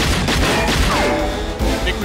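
Gunfire in the action film Face/Off, a dense burst of loud, overlapping shots and booms set within a busy, cluttered movie soundtrack, with shots continuing across the stretch.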